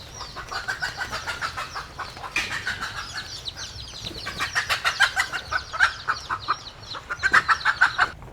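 A hen and her chicks cluck and cheep in rapid, repeated bursts while being caught, busy pulsing calls that swell and fade over the whole stretch, fairly close with no talking.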